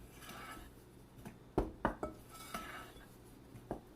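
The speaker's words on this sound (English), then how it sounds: "we're just going to give that a quick stir" A utensil knocks and scrapes against a mixing bowl while baking powder, baking soda and salt are stirred into dry scone ingredients, a few sharp clinks over quiet rustling.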